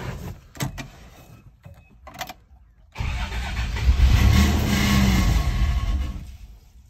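An FJ62 Land Cruiser engine cranks in short bursts after a dose of starting fluid, then catches and runs loudly and steadily for several seconds.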